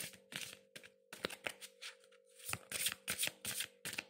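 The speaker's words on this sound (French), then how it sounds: "je tire ces cartes-là" Tarot cards being shuffled and drawn by hand, a close series of crisp riffling flutters and snapping slaps in an irregular rhythm, with a faint steady hum underneath.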